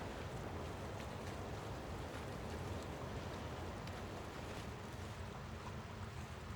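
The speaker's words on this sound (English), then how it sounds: "You hear it lapping up onto the shore." Water on a mountain lake in Alaska lapping onto the shore with wind, heard as a steady, soft, broadband wash and rumble, even and continuous without distinct waves or voices.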